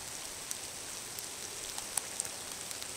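Steady rain falls in a forest in British Columbia, a soft even hiss with scattered distinct drips and drops landing close by.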